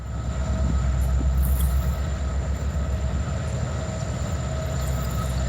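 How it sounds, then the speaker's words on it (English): A loud old train rolls past close by, a continuous heavy rumble of wheels and cars with metallic squealing and a faint high whine, sustained throughout with no voices. "Loud old train."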